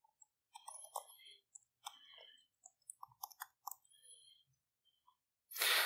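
A computer mouse gives sparse, faint single clicks at a desk while software is stepped through in a debugger. The clicks are spread out with quiet gaps, and a louder rustle comes at the end.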